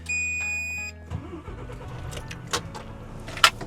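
Truck engine starts with a steady idling hum, then a faint rumbling drive away with scattered clicks and a short sharp clatter near the end.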